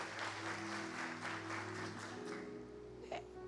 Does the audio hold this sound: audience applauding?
yes